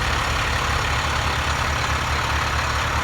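A 2011 International Altec utility bucket truck, a heavy-duty boom manlift, idles steadily with a constant low diesel rumble, close and loud, with no talking over it.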